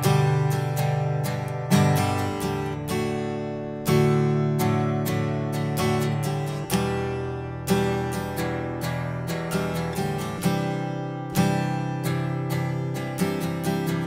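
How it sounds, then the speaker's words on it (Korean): Soft, relaxed acoustic guitar strumming of open chords, steady and even, ringing alone with gentle decays between strokes. "자 이렇게 연주하면 기타 소리가 좋죠. 부드럽고 편안하게."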